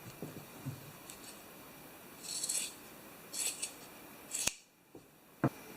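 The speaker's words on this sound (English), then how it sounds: "we're going to start out with a black fuzzy sock, and we're going to cut it off just below the heel here" Scissors cut through a black fuzzy sock just below the heel, close and quiet, with several short bursts of snipping and rasping followed by two sharp clicks as the blades close.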